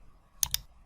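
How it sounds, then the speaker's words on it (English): A computer mouse double click on a file, two crisp, close clicks in quick succession against near silence. "Double click."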